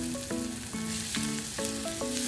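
An egg frying in a pan with onion and spices for bread balls, with a steady loud sizzle and crackle. Low tonal notes stop and start in a regular rhythm under the frying, and nobody speaks.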